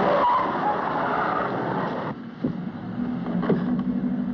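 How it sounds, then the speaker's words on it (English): A car drives away in a 1930s classic film: a loud motor rumble and road noise run throughout, shifting as the vehicle moves off, with no talk. "Stop this car."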